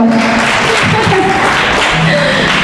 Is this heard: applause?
yes